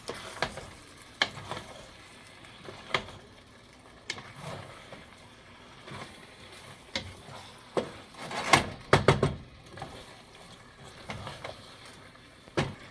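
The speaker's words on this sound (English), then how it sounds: "I'm just going to add in the vegetables, carrots and peas." Carrots and peas stirred into a sizzling meat pie filling in a pan, a soft frying crackle broken by spoon scrapes and clinks, with a busier burst of stirring near the end, close and without talk.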